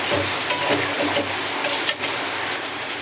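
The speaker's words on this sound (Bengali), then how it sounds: "এই যে আমি এখন একটু কষিয়ে নেব।" Pangas fish curry sautéing in a pan, a steady close sizzle and frying hiss with occasional soft scrapes of stirring throughout.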